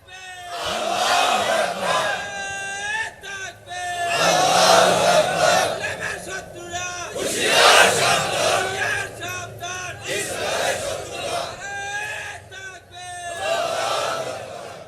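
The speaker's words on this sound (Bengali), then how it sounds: "একজন মাঝখান থেকে দাঁড়ায় তাকবীর দেন দেখি আল্লাহর নামে।" A large crowd at an outdoor religious gathering in Nilphamari shouts the takbir chant in loud, repeated waves, one leading voice answered by a roaring mass of voices.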